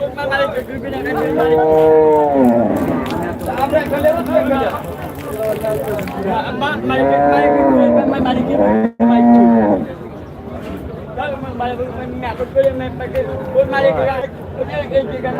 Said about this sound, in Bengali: দুধের গাভী কিন্তু হাটের মধ্যে সেটা কিন্তু আমরা এই মুহূর্তে দেখতে পাচ্ছি